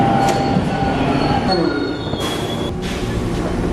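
A subway train rolls loudly and close by, with steady rumbling and high metallic wheel squeals that rise and fade, and a brief voice underneath.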